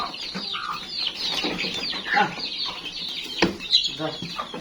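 Chickens kept in a wire coop on a veranda cluck and squawk in short irregular bursts, close by and fairly faint, with some wing flapping and rustling mixed in.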